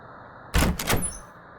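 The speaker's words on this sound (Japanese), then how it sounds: "ドア開けますね。" A door opens with one short burst of sliding and thudding noise that fades quickly, heard close against quiet background hum, with no voices.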